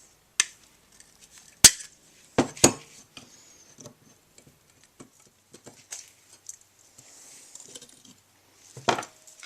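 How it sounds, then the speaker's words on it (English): Snap ring pliers work a snap ring off a Craftsman self-propelled mower's wheel assembly, giving several sharp metallic clicks and small taps scattered over a quiet background. "Just use a pair of snap ring pliers and remove the snap ring."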